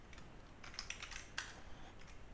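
A computer keyboard is typed on in a quick, soft burst of close clicking keystrokes, fairly quiet with no talk.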